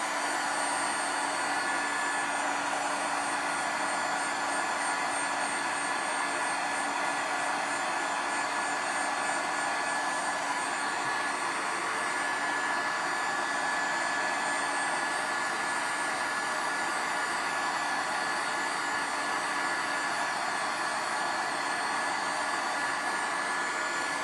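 Heat tool blowing continuously to dry layered ink on a slimline card, a loud steady whooshing roar with a faint whine that holds constant throughout, close up and uninterrupted, with no talk.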